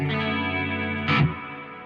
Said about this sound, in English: The RV500 being a dual processor reverb will decay nicely